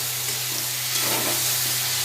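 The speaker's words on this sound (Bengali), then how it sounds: "পটলের সঙ্গে মশলাটা ভাজা হয়ে গেছে" A dense, even sizzle of pointed gourd frying with spices in hot oil, close and steady throughout the short stretch, with no talking.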